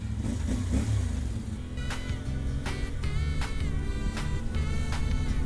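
A motorcycle on a long ride in Pangasinan pulls away with a steady mid-pitched engine drone that rises in repeated revs as it accelerates, close and loud with no talking.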